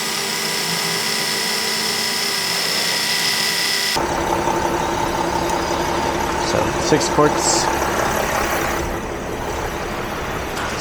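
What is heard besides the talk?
Mercedes Sprinter engine running during transmission service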